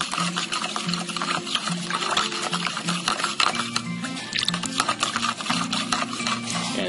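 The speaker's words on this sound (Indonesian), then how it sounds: "Lalu kita aduk ya." A liquid fertilizer mixture for eggplant plants being stirred in a container, a busy, steady sloshing and clinking close up with a faint rhythmic mechanical hum underneath.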